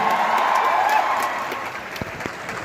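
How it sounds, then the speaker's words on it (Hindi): A seminar audience applauding, a dense wash of clapping that fades out partway through, leaving a few scattered claps near the end. "जोरदार तालियों से स्वागत करें अपने महबूबा"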